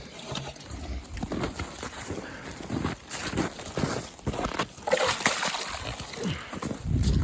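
Water sloshes and splashes as it is poured out for homestead livestock in cold winter weather, a steady close-up pouring with irregular spatters and a heavier gush near the end.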